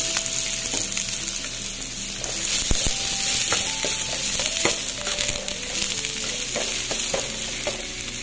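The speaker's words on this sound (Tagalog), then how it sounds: "So now guys, yung ano naman talong ay lutuin natin" Sliced eggplant fries in a pan for talongsilog, a loud, close, continuous sizzle broken by stirring scrapes and a few sharp clanks of the utensil against the pan, with no one talking.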